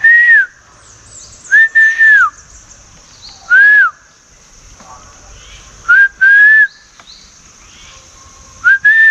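A person whistles to call a dog in a Sri Lankan village, giving several short rising-and-falling whistles in separate bursts with quiet gaps between them.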